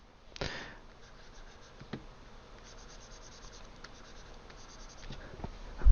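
A pencil drawing on paper, close and quiet, with light scratchy strokes and a few sharper taps along the way.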